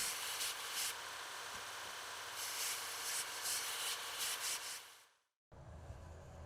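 Abrasive tool scouring rust and mill scale off steel tubing and chamfering its ends before welding, a loud, steady grinding rasp that holds for about five seconds, then cuts out, followed by a short stretch of quieter noise.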